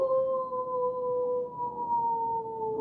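A drawn-out wolf howl, likely imitated by a human voice, holds one steady wavering tone for nearly three seconds, loud and close against a quiet background.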